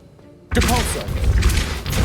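The Depulso force spell goes off in the Hogwarts Legacy video game: silence breaks into a sudden loud thump and whooshing burst that rolls on as a dense, roaring blast with a voice mixed in.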